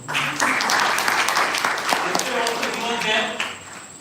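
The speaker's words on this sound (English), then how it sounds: "And special round of applause for Prabhu Bhai." An audience applauds a seminar host named Prabhu Bhai, steady loud clapping from a crowd for about four seconds, with voices mixed in beneath it.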